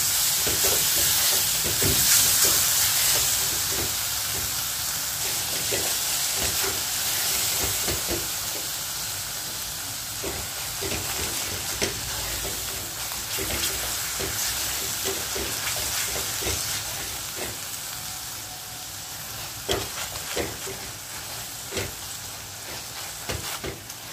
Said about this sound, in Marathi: आता टोमॅटो घातल्यानंतर 1 मिनिट भाजून घेऊया.